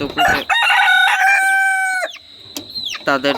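A native desi rooster crows loudly nearby, a long drawn-out call followed by a shorter second crow.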